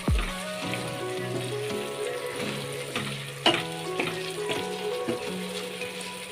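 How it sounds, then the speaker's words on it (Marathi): Spiced gravy with pepper, cloves, cinnamon and bay leaf cooks in a pan with a soft, steady sizzle and bubbling, while music plays over it and a sharp clink of a utensil sounds midway. "आता ही आपण ही ग्रेव्ही घालूया आपली जी ग्रेव्ही आहे ती आपण आता चांगले शिजवून द्यायची आहे"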